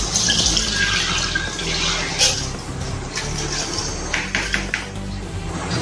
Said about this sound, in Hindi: ये जो चावल है जाली में यानी एक छन्नी में निकाल देंगे